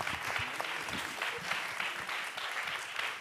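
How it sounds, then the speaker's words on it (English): An audience at a panel discussion applauds in a steady, dense burst of many hands clapping together, continuous and fairly close, with no voices over it. "invite all you to give them a round of applause"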